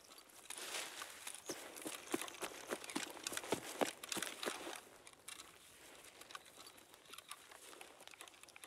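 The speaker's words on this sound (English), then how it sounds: "Oh, good rain." Rain falls in the shooter game Escape from Tarkov as a steady soft hiss with scattered pattering drops, fairly quiet and continuous, with no voices over it.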